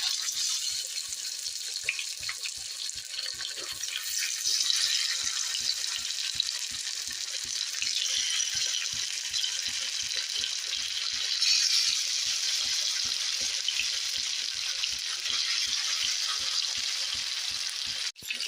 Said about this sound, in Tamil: எண்ணெய் நல்லா சூடாகிடுச்சு இப்போ நம்ம பிசைஞ்சு வச்சு மீன் அதில் போட்டுக்கலாம்